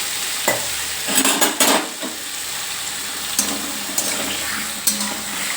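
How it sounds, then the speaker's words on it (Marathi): Water goes into a pan of salted bitter gourd cooking over medium heat, setting off a loud steady sizzle with sharp hissing bursts and scraping stirs near the start and end. "सो आता मी थोडं पाणी घालते"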